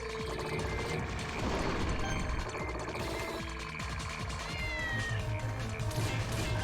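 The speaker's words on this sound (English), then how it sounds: "Go, cat, go!" Cat meows from the Castle Shikigami 2 video game ring out repeatedly over a dense, loud game soundtrack with gunfire-like bursts, with no talking.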